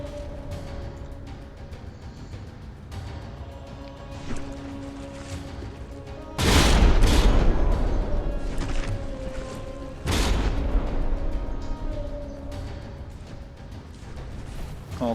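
Naval gunfire and shell hits in a dreadnought warship battle game, with heavy booming salvos and crashing impacts rising sharply over a low ambient drone, two big blasts standing out loud and close.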